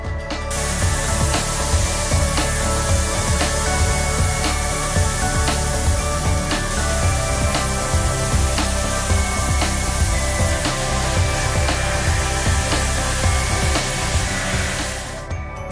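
A steady, loud blast of rushing air from a Tornador compressed-air cleaning gun blowing on carpet runs for about fifteen seconds with faint periodic ticks, stopping abruptly near the end.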